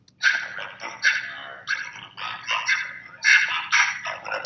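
A distorted, gravelly monster-like voice babbles in short bursts of garbled, unintelligible speech, close and fairly loud.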